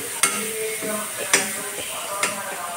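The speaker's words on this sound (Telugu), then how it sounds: "కొంచెం మగ్గింది కదండి, ఇలా ఒకసారి మళ్ళీ తిప్పేసుకోవాలి." A wooden or metal spoon stirs broad bean and tomato curry in a pan, giving three sharp scraping knocks spaced about a second apart over a steady low sizzle, close and moderately loud.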